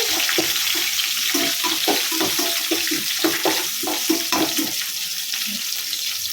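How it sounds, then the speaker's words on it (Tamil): Curry leaves and spices fry in a pan before potato goes in for a potato fry, making a steady loud sizzle with rapid scraping stir strokes throughout. "இதில் கொஞ்சம் கருவேப்பிலை சேர்த்து நல்லா மூணுத்தையும் நல்லா ஃப்ரை பண்ணணும்."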